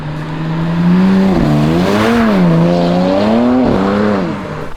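A BMW 335i three-litre engine revs loud and close, its pitch rising and falling in smooth waves as the throttle swells and eases, with no voices over it.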